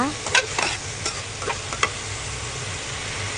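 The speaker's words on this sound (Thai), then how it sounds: "คนคนให้เข้ากันนะคะ" A pan of chicken liver stir-fried with holy basil, oyster sauce, dark soy sauce and a pinch of sugar is stirred, giving a steady sizzle with a few scraping strokes of the spatula, close and moderately loud, with no voices.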